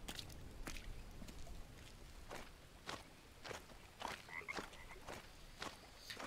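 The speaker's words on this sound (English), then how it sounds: "Frogs everywhere" Frogs croak across a jungle island in the survival game Green Hell, sharp repeated calls scattered between soft footsteps squishing on wet ground, with no talking.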